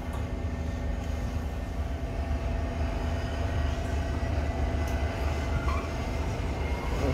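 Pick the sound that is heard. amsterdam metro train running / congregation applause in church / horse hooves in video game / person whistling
amsterdam metro train running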